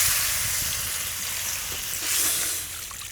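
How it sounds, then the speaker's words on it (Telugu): Water poured from a glass into a pot of rice for bagara rice, a continuous hissing splash lasting a few seconds with a slight swell near the end, close and fairly loud. "మూడు గ్లాసులు నీళ్లు పోసుకుందామండి"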